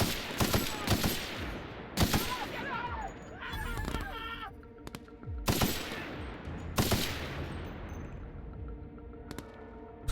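Gunfire in The Outer Worlds video game, several loud bursts of shots with reverberant tails, mixed with other game effects and some speech.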